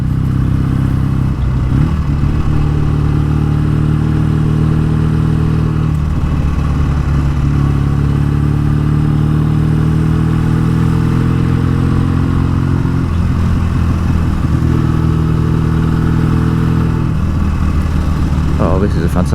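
A BSA A10 Super Rocket motorcycle engine runs steadily and loudly throughout while being ridden, with a constant low rumble and shifting tones as the revs change, and a voice talks over it at times.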